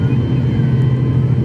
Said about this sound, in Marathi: आपलं विमान आता रनवेवरती पोहोचलं आहे.